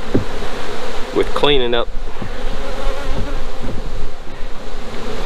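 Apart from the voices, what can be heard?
honey bees buzzing around a hive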